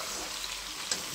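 Chicken sizzles in a pan with ginger, chilli, garlic and onion paste while it is stirred, giving a steady bright frying hiss with faint scraping and a small pop near the end.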